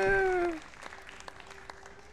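A rising tonal fanfare fades into light, scattered clapping with a few distinct claps standing out, fairly quiet in the background, in the game Diablo 4 after capturing a stronghold.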